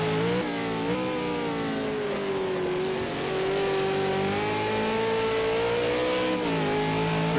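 V8 Supercar engine heard from an onboard camera in a racing video game at Fuji: a steady, loud, high-revving drone that rises and falls slightly through gear changes, with no talk over it.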